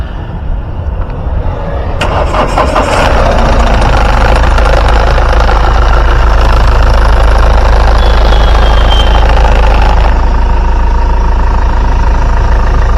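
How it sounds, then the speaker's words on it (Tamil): A low-budget used car's engine idles loudly and close, a steady low rumble with a brief mechanical rattle and clatter early on, and no talking. "வாங்க வண்டியோட இன்ஜின் சவுண்ட் எப்படி இருக்கு அப்படின்றத கேட்போம்."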